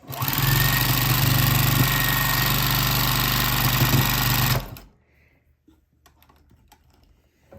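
A sewing machine quilts a grid pattern through fabric for a vinyl project bag, a loud, steady, rapid stitching hum running close by for about four and a half seconds before stopping abruptly, leaving near silence.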